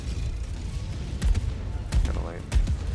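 Gunfire aimed at an enemy turret in Helldivers 2 during a fight against Automatons, with several short heavy bursts and thumps over a loud, dense game mix.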